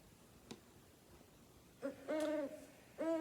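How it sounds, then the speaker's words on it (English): An owl hoots a few times, clear and fairly close, with short tonal calls repeating after a faint click at the start. "That's just an owl."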